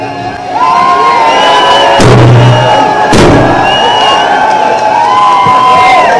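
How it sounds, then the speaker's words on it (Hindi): A loud, packed crowd cheers and whoops continuously at a welcoming rally in Raunaqabad as a guest speaker arrives, with a couple of heavy thumps cutting through the sustained roar. "जोरदार तालियों से इस्तकबाल कीजिए"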